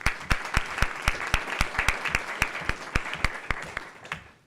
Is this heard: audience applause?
yes